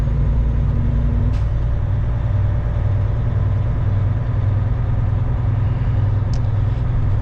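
Trucks and traffic on an industrial road in New Jersey, a loud steady engine drone and road rumble heard from inside a vehicle, with a couple of faint brief squeaks.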